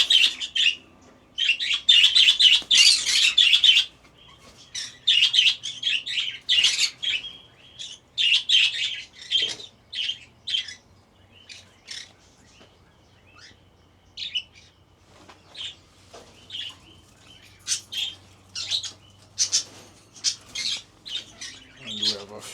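Several birds chirp and squawk nearby in an urban garden, loud, busy bursts that thin out into scattered calls, with a faint low hum underneath.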